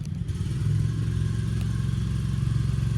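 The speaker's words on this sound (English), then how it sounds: "Someone's got to start up some kind of mower." A small engine, taken to be a lawn mower, runs steadily close by for the whole stretch, with a continuous low droning hum and no voices over it.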